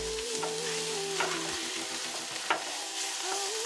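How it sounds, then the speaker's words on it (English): A spoon stirring vegetarian pilau in a pot, giving soft scraping strokes over a gentle sizzle, with a few sharper knocks against the pot, quiet and close. "Stir it."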